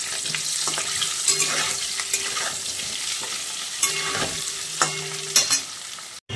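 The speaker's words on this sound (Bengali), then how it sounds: "আলুগুলো ভাজা চলছে।" Potatoes fry with a steady broadband sizzle in a pan while a utensil stirs them in repeated scraping strokes, close and fairly loud, with no talking.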